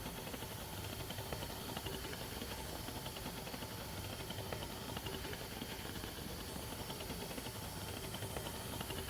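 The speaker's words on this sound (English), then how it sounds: "I will require to use steam, and what steam does is the heat from it will soften the shell" Steam hisses steadily and faintly, softening a helmet shell before it is molded in a repair workshop, an even, unbroken wash with no talking.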